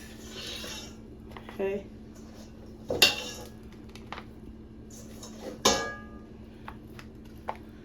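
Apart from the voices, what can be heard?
turkey wings being placed in a pan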